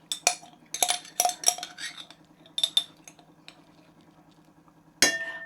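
Mayonnaise being scraped off a metal spoon into a jar, a series of sharp clinks and taps in irregular bursts against glass over a faint low hum, with a louder clatter near the end.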